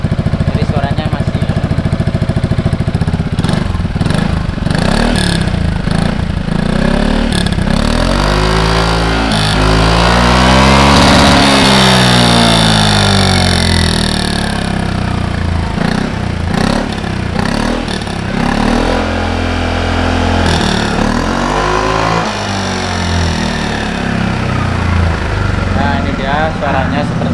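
A Yamaha XMAX scooter fitted with an Akrapovic exhaust and dB killer idles and revs repeatedly, a loud, close, throaty drone with rising and falling pitch sweeps and mechanical clatter, a voice speaking over it at times.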